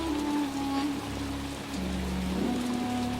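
Heavy rain pours down in a cartoon scene, a steady dense hiss of drops with a low rumble beneath, continuous and fairly loud throughout, with no voices.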